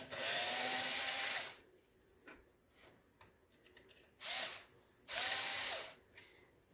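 A small power driver backs screws out of the charger plate on a Xantrex HFS2055 unit being disassembled, whirring in three loud bursts, the first long, separated by quiet handling clicks.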